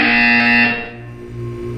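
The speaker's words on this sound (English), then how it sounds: "You will hear a buzzer." A harsh, loud electronic buzzer in the video game Portal 2 blares for under a second, then fades into a low lingering hum.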